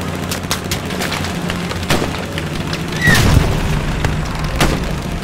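Tank cannon fire and explosions in the Hell Let Loose battlefield game, a loud continuous din of distant booms and crackling gunfire, with a heavier, closer blast rumbling through the middle and no talking.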